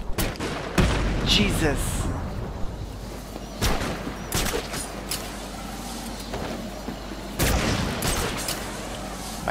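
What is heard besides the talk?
sniper gunfire in Batman Arkham City video game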